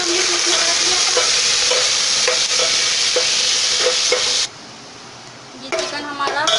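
Strips of chicken fried in hot oil with garlic in a pan on low heat, giving a loud steady sizzle with rhythmic stirring scrapes that cuts off abruptly, then faint clinks and the sizzle returning.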